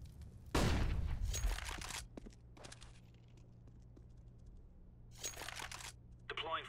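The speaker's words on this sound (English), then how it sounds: "Deploying flashbang." A flashbang grenade goes off in the shooter CS:GO on the de_mirage map: one loud, sharp bang followed by a fading hiss, then scattered clicks, bursts of gunfire and a thin ringing tone near the end.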